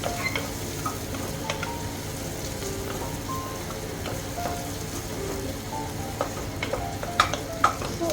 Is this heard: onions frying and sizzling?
yes